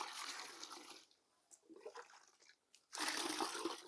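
Water pours and splashes over quicklime meant for poultry use as it is set to soak, in two loud, close bursts of rushing liquid separated by a quieter stretch of faint trickling.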